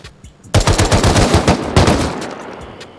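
Rapid automatic gunfire from the video game Rust rattles in a loud, close, sustained burst lasting a couple of seconds after a brief quiet lead-in.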